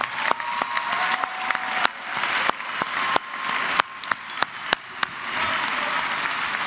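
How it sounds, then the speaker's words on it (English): A crowd at a motivational seminar applauds loudly and steadily, with sharp individual claps punctuating the dense wash of clapping throughout. "Give yourself a round of applause."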